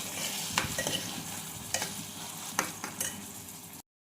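Tomatoes cooking in a pan for a mutton lungs curry are stirred with a spoon, giving a soft steady sizzle broken by a few sharp scraping knocks against the pan before it falls silent.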